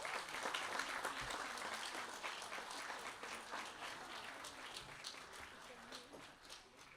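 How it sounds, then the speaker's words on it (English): A crowd at a youth music event at RSL Currumbin gives the mentors a round of applause, sustained clapping from a fairly distant room that tapers off toward the end, with voices mixed in. "Please, a huge round of applause for our mentors."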